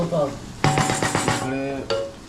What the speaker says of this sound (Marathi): टॅमॅटो टाकून थोडासा त्याला फिरवत आहे.